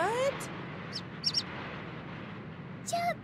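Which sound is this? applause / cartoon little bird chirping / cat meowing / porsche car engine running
cartoon little bird chirping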